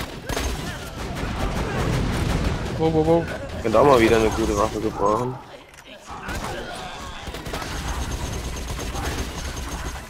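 Green-shot weapon fire in the video game Borderlands 2, with bursts of gunfire and mechanical clicks mixed under steady chatter from players.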